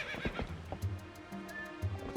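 A video game horse whinnies twice and snorts, with light hoof clip-clops in between. The sounds are close but fairly quiet, in a short burst.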